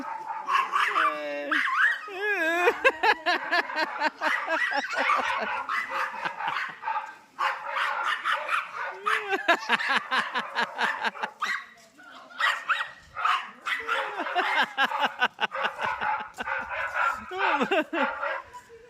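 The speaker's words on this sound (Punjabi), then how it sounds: "ਉਹਨੂੰ ਕੁੱਤਾ ਆ ਗਿਆ ਕੋਈ" A dog barks, yips and whimpers repeatedly at close range inside a family home, the excited bursts coming in quick irregular runs mixed with people talking.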